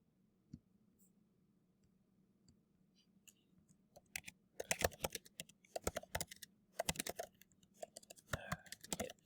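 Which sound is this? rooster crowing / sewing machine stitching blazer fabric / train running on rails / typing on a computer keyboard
typing on a computer keyboard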